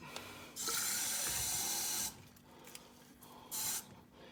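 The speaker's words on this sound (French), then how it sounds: "On remplit un peu d'eau du siphon." Water runs from a tap to fill the siphon of a Vaillant ecoTEC pro boiler during servicing, in a steady rushing stream for about a second and a half, then a quieter gap and a shorter second burst.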